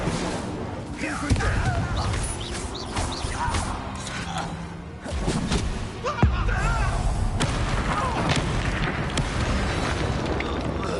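Fiery blasts and booms of the Incendio fire spell in the Hogwarts Legacy video game, loud and repeated through a dense mix of battle noise, with a character's voice over the action.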